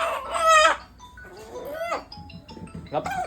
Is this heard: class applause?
no